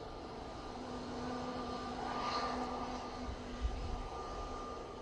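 Ryanair Boeing 737-800 arriving from Prague at Manchester Airport, a faint distant engine rumble with a soft whine that swells briefly midway, then a low thud, no voices.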